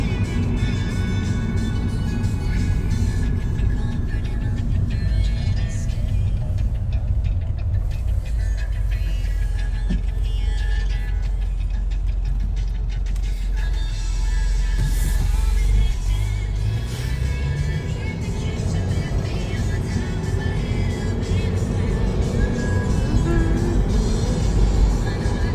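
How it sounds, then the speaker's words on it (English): Steady car ride on a rainy afternoon in Florida, with a constant low engine drone and road rumble running throughout at even loudness, a slight swell midway, and no clear talk over it. "I love a good car ride."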